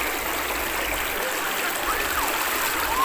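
River stream flowing steadily around a person wading across it on a mountain walk, a continuous close broadband rush of water with no voices.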